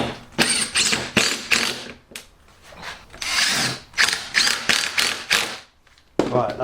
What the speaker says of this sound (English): what I'm going to do now is drive in my other two retaining screws into the clamp itself